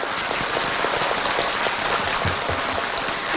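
An indoor audience at a live talk event applauds, a dense, even wash of many hands clapping at once, loud and sustained for a few seconds with no voices over it.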